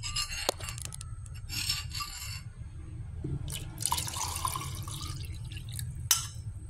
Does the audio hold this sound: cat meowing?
no